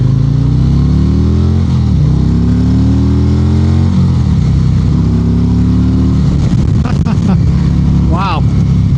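A 2025 Harley-Davidson Road Glide trike with the 117 engine rumbles steadily on the move, a loud deep throbbing drone with shifting pitch as it rides, wind roaring over it throughout.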